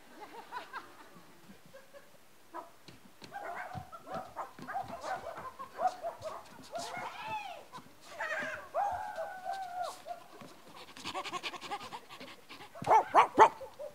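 During a comedy skit, a performer's voice imitates a dog with whimpers, whines, pants and short yelping barks, irregular and close, building to a louder burst of yips at the end.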